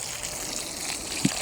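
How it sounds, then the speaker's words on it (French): A small amount of water pours gently onto freshly planted broad bean seeds in a vegetable garden, a soft, steady close trickle with a slight splash near the end. "on met un petit peu d'eau, mais très peu, pour éviter que la semence se pourrisse."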